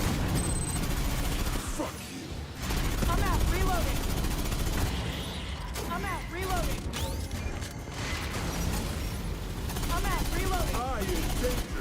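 Rapid gunfire and heavy rocket blasts from Aliens: Fireteam Elite 2 combat, sustained and loud throughout, with a player's voice talking over the shooting.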